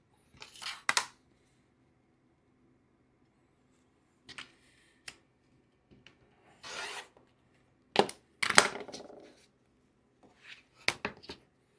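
Scissors trim fabric during late-night sewing, scattered short snips and rasping cuts in separate bursts with quiet gaps between them, close and fairly soft.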